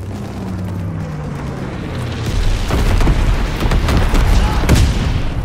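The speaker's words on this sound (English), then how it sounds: "Altitude bomber inbound, dropping incendiary." In a video game, a high-altitude bomber drops incendiary bombs that land as a deep rolling rumble, then swell into a dense run of loud, overlapping booming explosions with a low engine drone underneath.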